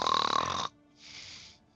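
A person imitates a big snore with their voice during a tabletop roleplaying session: one loud, rough inhaled snort, followed after a short gap by a softer, breathy exhale, close to the mic.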